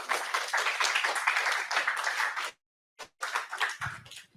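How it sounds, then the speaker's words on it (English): An audience at a data forum applauds with dense, fairly loud clapping for about two and a half seconds, then a brief pause followed by a smaller burst of scattered claps that fades out. "let's give them a round of applause for one more time"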